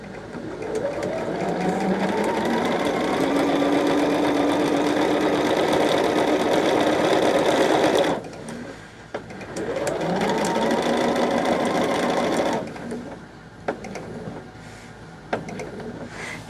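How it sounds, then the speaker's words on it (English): A domestic sewing machine quilting a large project stitches in steady, fast continuous runs, loud and close, with two short pauses where the needle stops before starting again. "this is quilting with just a sewing machine"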